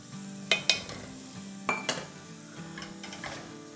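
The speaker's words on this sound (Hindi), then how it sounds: "ये देखिए हल्का हल्का सिजल होना शुरू हो गया है" Sauce with onions and chicken sizzling softly in a pan while a utensil stirs and scrapes, giving a few sharp clinks against the metal over a low, steady sizzle.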